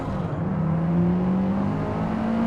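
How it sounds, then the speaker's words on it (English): A race car engine in Forza Motorsport winds down as it downshifts all the way to first gear, a steady close drone with falling then rising pitch and no talk. "Oh, I downshifted all the way to the first."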